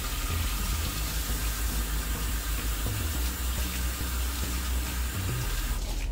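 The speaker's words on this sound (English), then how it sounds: "Wash your hands, guys." Steady running tap water while hands are washed, a constant close rushing stream that continues unbroken, with no talk over it.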